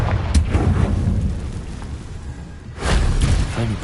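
A Confringo fire-blast spell explodes in Hogwarts Legacy, a deep booming blast at the start that rumbles and fades, followed by a second heavy burst near the end.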